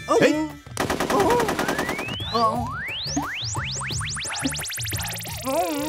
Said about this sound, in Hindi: गन चला रहा है